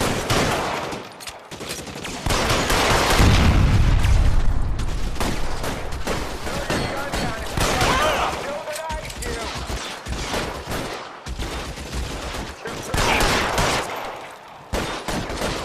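Dense rapid gunfire from a shootout in L.A. Noire, loud and near, bursts of machine-gun and pistol shots overlapping continuously, with voices shouting through the firing.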